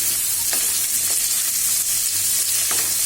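Ingredients for a borboti (yardlong bean) vorta fry in hot oil, with onion, garlic and green chilli mentioned, giving a steady close sizzle with occasional stirring scrapes.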